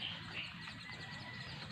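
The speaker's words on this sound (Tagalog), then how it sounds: "The birds are chirping." Faint birds chirping in short high tweets outdoors near a vegetable garden with eggplants, over a soft steady background hiss.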